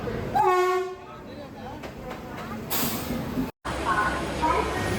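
Train at a railway station gives a brief tonal horn blast early on, followed by the steady rumble and clatter of rail traffic with a broad station ambience and some background chatter.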